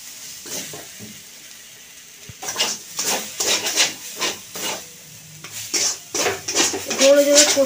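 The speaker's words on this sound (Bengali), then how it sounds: "এটা দিয়ে দিচ্ছি মশলাটা।" A paste of fried coriander, cumin and dried red chilli is stirred into a hot cooking pan. A spoon scrapes and rubs against the metal over a soft sizzle, in repeated close strokes that grow louder toward the end.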